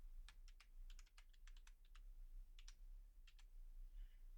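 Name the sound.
typing on a computer keyboard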